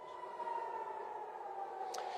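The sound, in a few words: air raid sirens sounding in Tel Aviv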